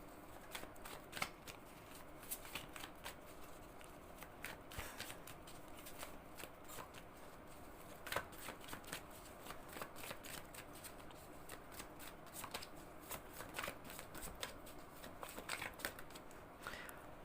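Tarot cards handled and shuffled in a card-reading session, giving steady rapid flicks and riffles with sharp card snaps throughout, close and moderately quiet with no talking.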